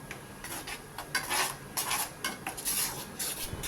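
A spoon scrapes and stirs thick sweet potato and cashew halwa with cardamom in a pan, close-up clinks and rubbing strokes in an irregular rhythm, fairly quiet with no talking.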